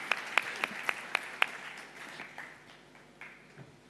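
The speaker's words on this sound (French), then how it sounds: "On l'applaudit encore." Audience applause for a speaker at a talk on childbirth, thin and scattered, with a few distinct claps at first that quickly fade into faint, sparse clapping.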